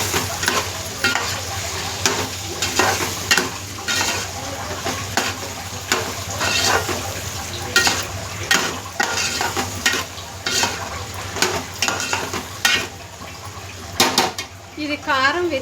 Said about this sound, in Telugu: దీన్ని తిప్పేద్దాం.